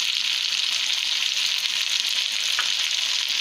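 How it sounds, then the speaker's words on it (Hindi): Beef karahi sizzles steadily in a pan, a loud, continuous hiss of meat frying with no talking. "बस तकरीबन 2 मिनट हो गए हमें फ्राई करते हुए"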